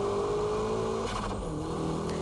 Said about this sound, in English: And from here, it's power drifting